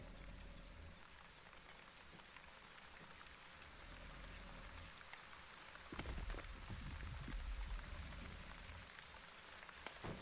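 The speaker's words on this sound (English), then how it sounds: "And it is raining." Rain in the video game The Wandering Village, a steady hiss of drops pattering on surfaces. It is quiet throughout, with a few louder thumps and crackles near the end.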